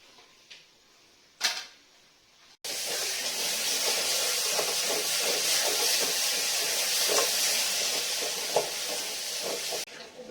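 Potatoes fry in a pan, a loud, steady sizzle that starts suddenly and hisses close and continuous for several seconds, following a brief quieter stretch with a few clicks.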